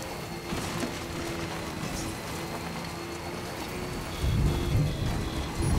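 Steady rain hisses throughout a stormy scene in the video game Death Stranding, with low thunder rumbling underneath and a heavier rumble near the end; no one speaks.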